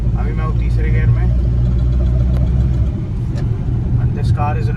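A Maruti Suzuki Wagon R engine pulling steadily in third gear, a low, continuous mid-pitched hum heard from inside the car, with someone talking over it.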